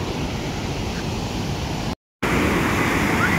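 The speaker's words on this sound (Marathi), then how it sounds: "रौद्ररूप बघा फक्त धबधब्याचं कसं आहे बघा" Strong water flow roars from a hidden waterfall at Parola in Hingoli, a steady, dense rush holding at a constant level for the whole stretch apart from one brief dropout near the middle.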